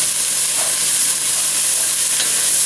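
Chopped serrano and red chili peppers sizzle in a pan with onions, a steady bright frying hiss that stays even and close throughout, with no voices.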